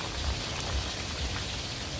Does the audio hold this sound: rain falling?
yes